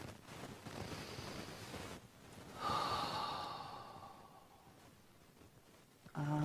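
A single slow, deep breath drawn in and let out during a quiet guided meditation, soft and close, with a faint airy hiss and a brief rustle at the end.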